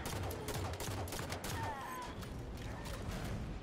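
Gunfire in Halo 5: Guardians comes as rapid, quiet bursts of shots over steady game background noise. The shots are short and repeated and sound somewhat distant.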